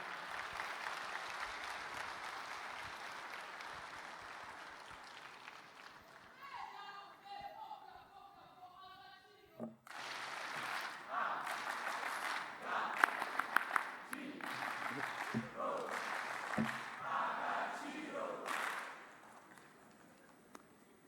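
Conference audience applauding to welcome the Prime Minister of Rwanda at a YouthConnekt Africa opening ceremony, a loud sustained burst of clapping following an announcer's voice.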